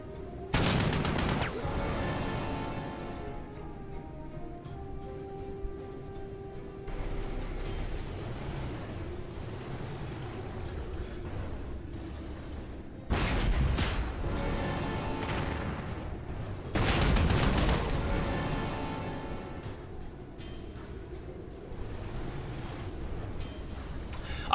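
Artillery shelling grenadiers in the strategy game Panzer Corps 2 during a 1942 assault on Stalingrad, with repeated heavy booms and blasts in bursts and rumbling gaps between them.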